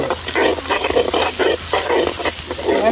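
Chopped shallots frying in peanut oil for a Malabar prawn curry, a steady close sizzle with rhythmic stirring scrapes repeating every half second or so, no talk.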